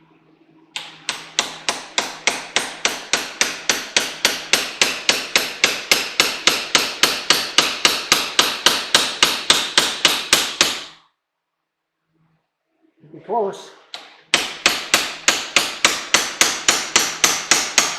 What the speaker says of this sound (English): Entirely too small of a hammer,